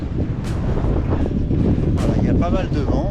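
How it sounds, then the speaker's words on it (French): Strong wind roars steadily across the microphone at the Col de Véry near the Croix de Pierre refuge in the Beaufortain mountains, a loud continuous buffeting with brief gusty surges throughout. "il y a pas mal de vent"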